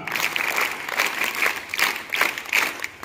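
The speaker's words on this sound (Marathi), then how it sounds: "आपण 3 टाळ्या देऊन या सगळ्यांना धन्यवाद देऊया" A crowd at a cleanliness-campaign speech event claps in rhythmic unison, a loud, close series of steady beats of group applause with no talking over it.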